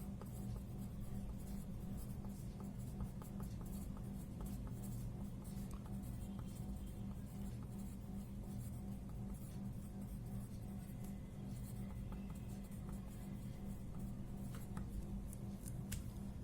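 Hand writing during a lecture on shear force and bending moment diagrams: faint, scattered scratching strokes over a steady, low background hum, with no talking.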